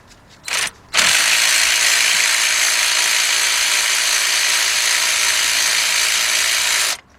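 Ratchet wrench loosening bolts on the 4.6 engine of a 2004 Ford Expedition during spark plug replacement: two short bursts, then a long continuous fast clicking, close and loud, ending abruptly.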